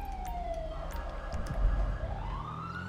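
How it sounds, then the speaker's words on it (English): A police car siren passing nearby in traffic, its wail sweeping down then climbing again over a rumbling engine, fairly loud and close. "someone's running a siren"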